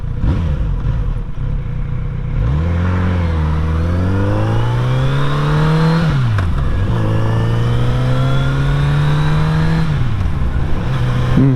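A nearby car engine revs up in repeated swells, the exhaust note climbing, dropping sharply, then rising and holding before easing off again, loud and close throughout.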